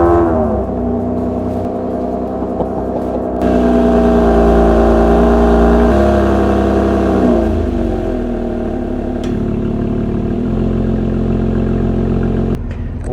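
A Lotus Emira sports car engine fires up and settles into a steady, loud idle, then rises in pitch as it revs up and falls back, heard close with no talking.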